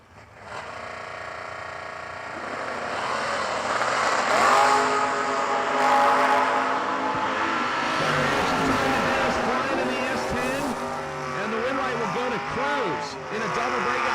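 A Chevy S10 and a 1967 Camaro launch side by side at a drag strip, their engines roaring loud and steady with rising, sweeping revs throughout, while a track announcer talks over the noise.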